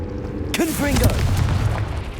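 Confringo explosive spell blast in Hogwarts Legacy, a booming burst with a rumbling tail, set amid ongoing game music and effects; a voice shouts just before.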